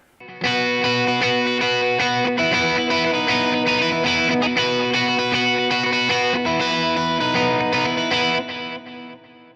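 Electric guitar with overdrive, echoing delay and reverb, sustained chords and notes blending into a thick, ringing wash that trails off at the end.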